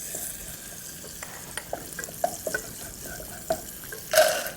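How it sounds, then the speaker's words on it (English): Butter melting in a small pan gives a faint, steady sizzle with scattered soft crackles and pops, close by and quiet, ending in a brief louder burst of frying. No one speaks. "So melt some butter, the remaining butter that you had put aside,"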